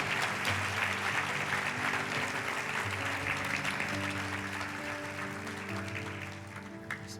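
A church congregation claps at a service, with a sustained round of applause over a held musical tone that slowly tapers off near the end.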